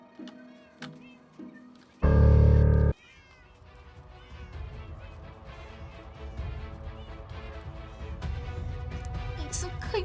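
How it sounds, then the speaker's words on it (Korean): Several cats meow in quick succession in a video game, one loud close cry standing out, over a soft musical background. "이 서버 고양이 왜 이렇게 많아? 야 저기 고양이 진짜 많다."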